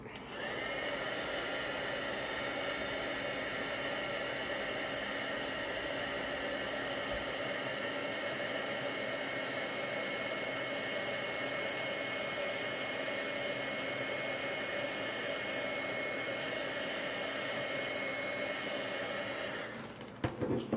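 Heat tool blowing hot air over a stamped card, a loud, steady, close whooshing roar that runs unbroken for about twenty seconds and stops abruptly at the end, with no talk.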